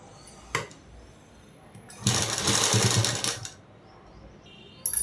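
A sewing machine stitching piping cord into a blouse collar: a rapid mechanical whirr of stitches lasting about a second and a half, with a brief click before it and another near the end.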